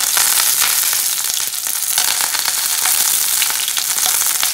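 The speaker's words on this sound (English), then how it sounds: "Now I'm going to add some curry leaves," Mustard seeds, methi seeds and curry leaves fry in hot oil with a loud, dense, continuous crackling sizzle and rapid popping, heard close up with no talk.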